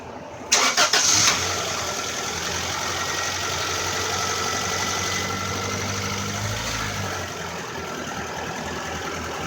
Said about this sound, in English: Now I should be able to start it up.